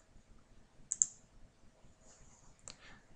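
A computer mouse clicks in lens price list software, a couple of sharp, quick clicks close together followed by another pair a moment later, faint and close against a quiet room.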